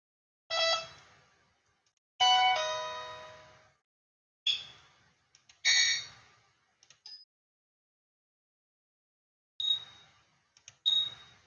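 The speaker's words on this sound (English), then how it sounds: "I don't know if you can hear that. It goes beep." Bright electronic alert beeps sound in short bursts, each fading quickly, with quiet pauses between them and no voices.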